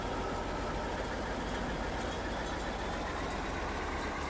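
Steady low rumble of a Russian tractor engine in the Arma video game, idling continuously and loud and close as the tractor rolls slowly downhill against a hay bale.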